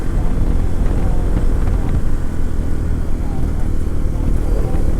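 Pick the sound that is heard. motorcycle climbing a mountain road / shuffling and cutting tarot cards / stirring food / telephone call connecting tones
motorcycle climbing a mountain road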